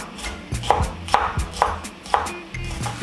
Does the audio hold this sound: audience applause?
no